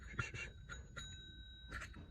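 A bicycle bell rings several times in short dings, with a sustained ringing tone lingering between strikes, close and moderately quiet against background rustle.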